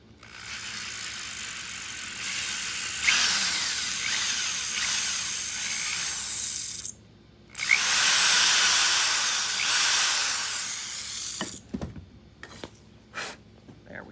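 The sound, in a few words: drilling with a 1/4 inch drill bit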